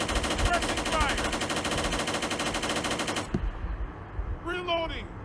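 A video game machine gun lays down suppressing fire in a rapid, loud, unbroken burst that stops abruptly after about three seconds. A short voice line follows in the quieter tail.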